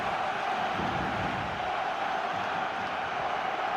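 Stadium crowd in the football video game PES 2013 keeps up a steady, dense roar with no breaks, a broad wash of massed voices reacting to a near-miss attempt.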